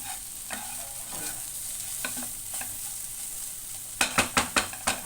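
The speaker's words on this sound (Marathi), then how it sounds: "ह्याला मी परतून पण आता गॅस स्लो करते" Okra sabzi stir-fries in a pan with a steady sizzle, with scattered spatula scrapes and then a quick run of five or six sharp, close stirring knocks near the end.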